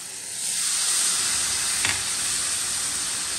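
Pasta chips fried in a frying pan sizzle steadily as masala is stirred through them, a continuous close hiss broken by one brief scrape of the spatula.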